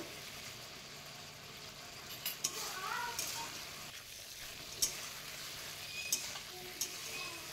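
Spice paste with chilli powder and a splash of water being sautéed in a pan for a fish curry, giving a soft, steady sizzle with occasional scrapes of a spoon stirring against the pan.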